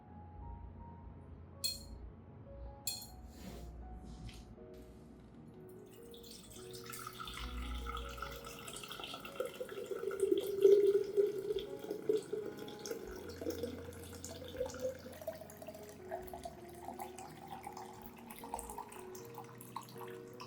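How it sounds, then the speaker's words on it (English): Faint clinks and handling at first, then water runs and splashes into a container as vitamin B1 tablets are dissolved, swirling for several seconds before fading. "I'll dissolve 2 vitamin B1 tablets in 1 liter of water."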